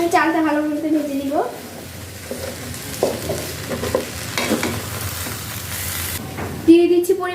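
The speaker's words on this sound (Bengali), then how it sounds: "এখানে আমি চালটা ভালো মতো ভেজে দিব।" Rice fries in a pan with a soft continuous sizzle and scraping stirs, close and moderate in level, with a person talking briefly at the start and again at the end.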